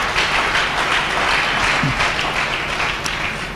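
A church congregation applauds with steady, dense clapping that fills the room evenly and tapers slightly at the end.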